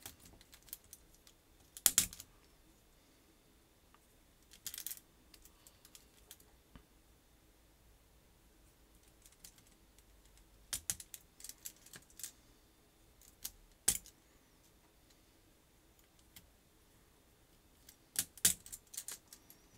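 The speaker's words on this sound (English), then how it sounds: "I'm going to be putting the stems in now." Sparse plastic clicks and snaps come from keyboard switch stems being pressed into a keyboard during a Novatouch mod on an RF105U. Short bursts of a few clicks arrive every few seconds over a quiet, close background.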